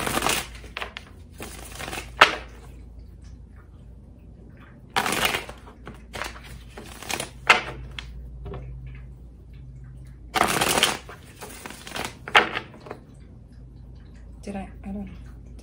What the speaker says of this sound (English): Did I shuffle 3 times?